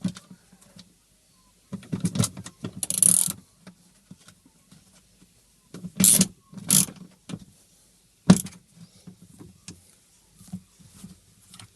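An M6 bolt with a washer is tightened down onto a heavy ground cable by a Subaru EA82 turbo fuel pump, giving short bursts of metallic ratcheting clicks separated by quiet pauses.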